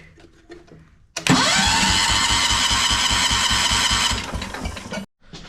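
A 10 HP Kohler engine is started with the ignition key: a click, then the motor catches and runs loud and steady with a rapid rhythmic chug for about four seconds before cutting off abruptly.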